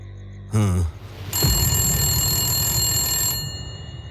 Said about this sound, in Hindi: ये टेलीफोन तो खराब है ना? हाँ, फिर ये बज कैसे रहा है?